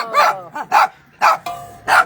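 Dogs at an animal shelter bark close by in four loud, spaced bursts over about two seconds, with softer yips between them.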